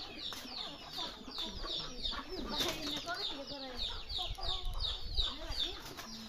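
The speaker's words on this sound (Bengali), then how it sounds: "পাশাপাশি দেশি মুরগি আছে," Desi chickens cluck and squawk continuously in a coop, many birds close by with occasional wing flaps, a busy overlapping chorus throughout.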